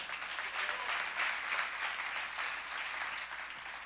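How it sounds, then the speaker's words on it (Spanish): A church congregation claps together, a steady wash of applause filling the room at moderate volume with no talking over it. "Den un aplauso a Dios"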